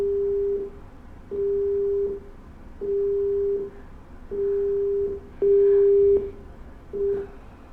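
A telephone busy tone on a line the caller has hung up: six evenly spaced steady beeps, each lasting under a second, repeating alone with a faint hum between them.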